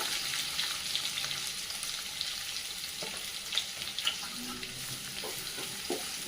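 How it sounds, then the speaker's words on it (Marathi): Curry leaves and finely chopped medium onion frying in hot oil for a capsicum and potato dry bhaji, a steady close sizzle with a few soft stirring clicks throughout. "त्यामध्ये टाकून घेऊया कडीपत्त्याची पाने एक मध्यम आकाराचा बारीक चिरलेला कांदा"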